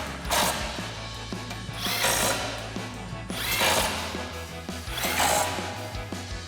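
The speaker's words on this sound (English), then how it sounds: "we're going to come back and tighten them down with our 15mm socket" Impact-type power tool bursts tightening bumper bracket bolts with a 15mm socket on a 2020-2023 Silverado 2500 front bumper, four strong separate runs of rattling whir with a low mechanical hum between them.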